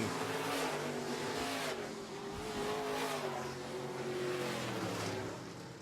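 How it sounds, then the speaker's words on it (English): Midwest modified race cars roar steadily on a dirt track. The engines drone loud and sustained, with passing surges as the pack goes by and no talk over them. "Casey rails around the outside in the Canadiana Motor Inn"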